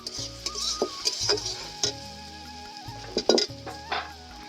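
Ground garlic, ginger and chili pastes go into frying onions in a pan, making a soft sizzle under scattered spoon clinks and stirring scrapes, all fairly quiet.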